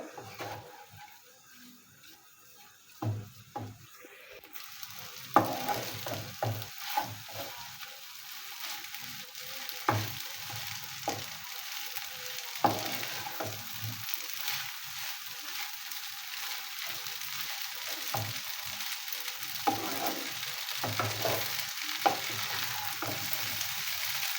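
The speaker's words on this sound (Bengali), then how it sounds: "মশলাটা দেওয়ার পর আরেকটু নেড়ে চেড়ে এভাবে মিশিয়ে নিতে হবে" Masala being stirred and mixed into egg pasta in a pan, with a quiet start that builds into a steady sizzle and repeated scraping and clacking strokes of a spatula, close by.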